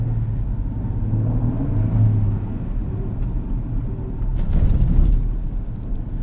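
A 2024 Ford Ranger XLT 4x4 pickup on Goodyear tyres drives over snow, giving a steady low engine and road rumble with a brief swell of revving near the end.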